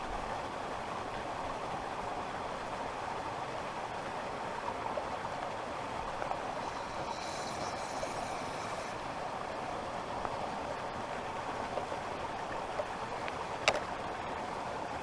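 A waterfall gives a steady, even rush of falling water that holds for a long stretch, with a brief faint clink near the end and no voices.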